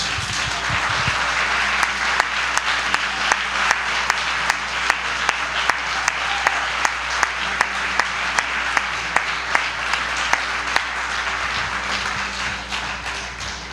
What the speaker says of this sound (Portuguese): Eu queria que a gente aplaudisse o Senhor pela vida deles